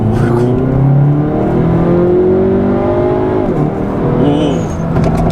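A Hyundai Veloster N with a dual-clutch transmission pulls hard with its sport exhaust setting, the engine loud and close as revs climb steadily, dip briefly at an upshift from second to third, then rise again.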